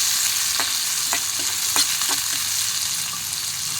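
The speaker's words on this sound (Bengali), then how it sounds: "পেঁয়াজটাকে আমি ফোড়নের সঙ্গে খুব ভালো করে ভেজে নেব।" Sliced onions fry in hot oil with dried red chillies and whole spices, a steady close sizzle broken by brief scrapes and clinks of stirring, no voices.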